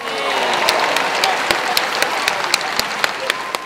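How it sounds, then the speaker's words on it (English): Audience clapping at a comedy show in Ghana, a dense, steady wash of applause with individual sharp claps standing out near and at regular intervals, no voice over it. "Please clap."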